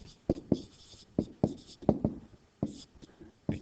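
Chalk or marker strokes writing a formula by hand on a board, a quick irregular series of sharp taps and scrapes, close and fairly loud, with no talking.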